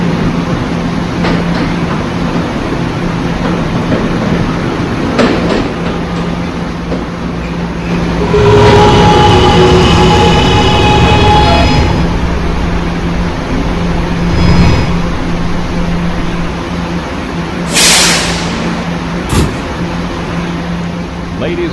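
Subway train ride on the PTA 5th Ave line aboard an R211 E train in the Roblox game, approaching Halson Terminal: a steady rumbling roll with rising motor whine and brief squeals and clunks, loud and continuous.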